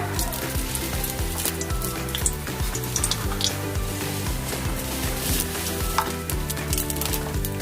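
Dry red chillies sizzle in hot oil in a wok, a steady close crackling hiss with light stirring and occasional pops throughout.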